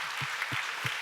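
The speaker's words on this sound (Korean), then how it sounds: "박수 한번 하겠습니다" Applause from a church youth group audience, a brief, soft wash of clapping under a second long, faint and diffuse with a few low thumps.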